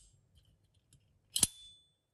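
A Maxace knife with a mechanical button lock snapping open, a single sharp metallic click after some faint fiddling, close and crisp in a quiet room.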